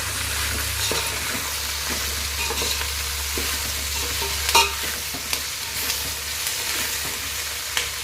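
Mixed vegetable rice is stirred in a pan with a steady soft sizzle and faint scraping, with a few sharper utensil knocks near the middle and end.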